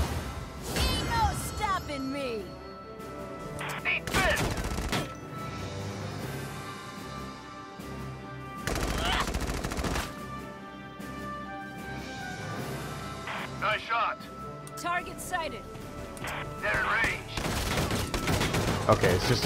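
Gunfire in Valkyria Chronicles 4 comes as repeated loud bursts of rapid shots and volleys spread across a long stretch of battle, with speech and game sounds mixed in between.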